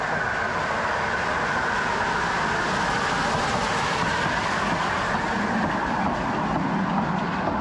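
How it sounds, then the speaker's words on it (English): A narrow gauge train rolls past near Poznań, Poland, a loud, steady rumble with clattering wheels that stays constant throughout at close range. "we heard the whistle, so we're going to watch the train from the same place"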